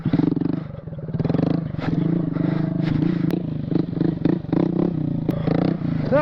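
Honda Grom motorcycle engine during stand-up stunt practice, its close idle and throttle blips rising and falling unevenly, with rattling and scraping noises.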